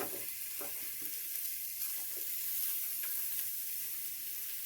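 Onions sauté in a pan with a constant, close sizzling hiss, broken by occasional spatula scrapes and small pops, with no speech.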